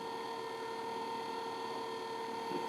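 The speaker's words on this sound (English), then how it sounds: "that should turn on your washer pump." A Jeep CJ windshield washer pump runs steadily, a constant electric motor hum with a faint buzzing whine, close and unbroken, with no talking.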